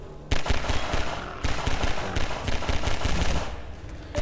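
Rapid gunfire from the first-person shooter Half-Life 2, dense bursts of automatic shots rattling almost continuously, loud and close, with a brief gap near the start and another around one and a half seconds in.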